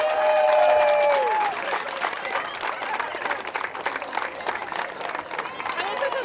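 Outdoor crowd at dragon boat races clapping and cheering for the winners, starting with a brief whistle-like tone before sustained, dense applause fills the rest, lively and fairly close.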